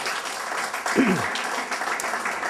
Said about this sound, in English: I think we should just give that a round of applause